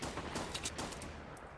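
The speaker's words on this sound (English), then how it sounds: "There's been shootings going on." Gunfire in the video game Fortnite crackles as a dense, rapid volley of loud shots, continuous through the short burst and fading slightly at the end.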